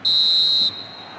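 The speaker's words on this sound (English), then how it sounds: "whistle due any moment" The referee blows a single long, shrill whistle for half-time in a football match between Real Madrid CF and Manchester United, loud and sustained for about half a second over stadium crowd noise.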